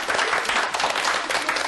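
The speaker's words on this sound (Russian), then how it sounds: "Аплодисменты." A room full of people at an acting class claps steadily, a dense and lively burst of applause with no voices.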